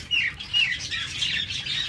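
Caged birds calling at a bird sale where many doves are kept, a busy overlapping chorus of high chirps and tweets running steadily throughout.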